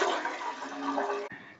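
Water is poured into an idli steamer to steam paneer, making a continuous splashing gush for over a second that then stops abruptly, followed by a brief softer trickle.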